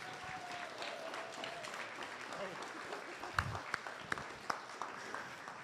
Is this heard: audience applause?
yes